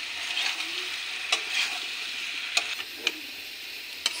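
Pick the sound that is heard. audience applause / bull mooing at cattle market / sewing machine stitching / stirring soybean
stirring soybean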